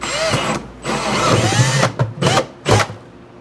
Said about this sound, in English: So for the cable, we got a 1 1/4 inch hole saw.